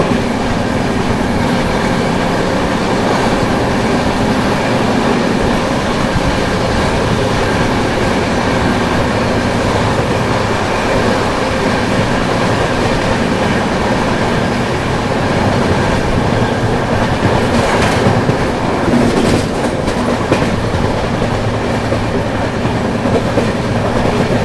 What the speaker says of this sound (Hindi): ट्रेन अपनी जो है खुर्जा जंक्शन स्किप करने जा रही है।